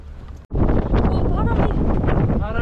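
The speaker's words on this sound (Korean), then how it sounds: "바람이 너무 많이 불어." Strong wind on Santorini buffets the microphone with a loud, steady roar after a brief dropout at the start.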